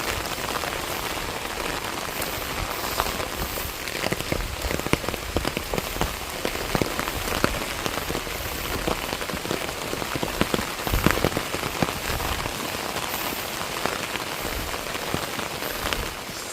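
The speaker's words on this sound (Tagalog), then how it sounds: "Nabutan na po kami ng ulan." Steady rain patters densely on surfaces nearby, a constant hiss of drops with occasional louder splats, and no voices.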